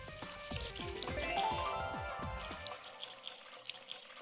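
Water runs from an open household tap in a steady, splashing stream that fades out partway through, leaving faint scattered knocks in a quiet room.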